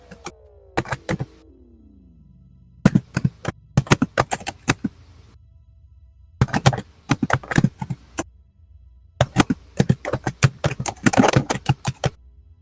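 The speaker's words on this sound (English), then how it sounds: "We're getting a lot of typing noise from you" Computer keyboard typing picked up over a voice chat during a Terran Stellar Navy roleplay game session, coming in several bursts of rapid, clattering keystrokes with short silent gaps between them.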